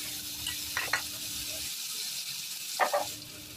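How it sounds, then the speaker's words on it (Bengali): Chili and spice mixture for chapa shutki bhorta sizzles in hot oil in a wok, a steady broadband hiss with two brief bursts of stirring scrapes, close and fairly quiet, no talking. "এখন এগুলো শুধু ভাইজা নিবো আর কড়াইয়ের মধ্যে"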